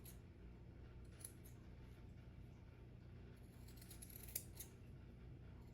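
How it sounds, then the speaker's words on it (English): Scissors trim the fabric corners and points of a small denim jacket for a doll, giving a few faint snips over a steady low background hum, with no voices. "I'm just going to trim my corners and all the points."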